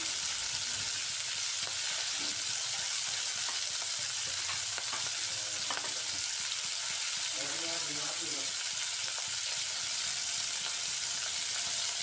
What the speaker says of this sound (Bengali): তেলটা গরম হয়ে যাওয়ার পর শিমগুলোকে আমি হালকা ভেজে নিচ্ছি।